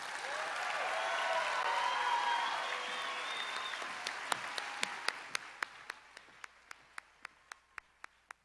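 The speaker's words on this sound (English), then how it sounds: "Let's give all of our graduates one more round of applause." A graduation audience claps at a high school ceremony, a dense wave of applause that fades into a few scattered, loud, evenly spaced claps from one nearby person.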